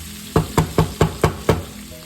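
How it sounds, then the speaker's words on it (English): Sautéing in a pan at medium heat for dinuguan, a pork blood stew: six evenly spaced, sharp sizzling bursts about a quarter second apart, like ingredients being stirred or tossed, each sizzle fading quickly over a low steady hum, close and moderately loud. "let's start sauteing"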